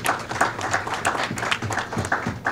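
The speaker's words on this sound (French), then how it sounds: "je voudrais bien qu'on l'applaudisse" An audience at a business forum on endogenous development in Senegal claps together in a steady, fairly close run of applause that carries on for the whole stretch, with faint voices mixed in.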